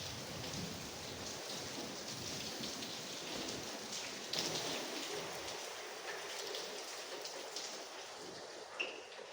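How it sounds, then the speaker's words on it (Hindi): Heavy stormy rain pours steadily outside a drawing-room window amid cold gusting wind, a dense continuous wash of drops that stays loud and even with no voices. "इतनी ज़्यादा तेज़ तूफ़ानी बारिश थी ना"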